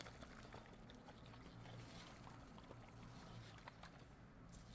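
Steady broadband rushing and bubbling water, constant and fairly quiet, with no voices.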